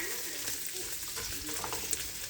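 Onions sizzle and fry in a pan with tinned mushrooms, a steady crackling hiss with small pops, over faint background noise from a television.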